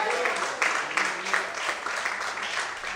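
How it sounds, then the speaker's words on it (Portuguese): A church congregation claps for the Lord during a Brazilian evangelical service, a steady dense wash of applause filling the room with a few stronger bursts, at moderate level and without clear speech over it. "glorifique e aplauda o nome do Senhor bem forte"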